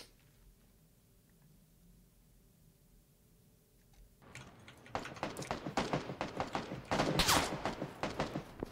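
Gunfire in the video game PUBG starts after a quiet stretch, a quick run of sharp shots that grows louder and denser toward the end.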